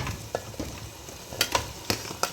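Potatoes and vegetables tumble into a pot of frying mutton stew, giving quiet sizzling with several sharp clatters and stirring knocks scattered through a couple of seconds.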